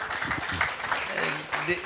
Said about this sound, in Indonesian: Boleh tepuk tangan untuk Mas Hanif Dakiri